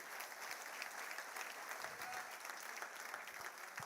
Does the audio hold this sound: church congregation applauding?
yes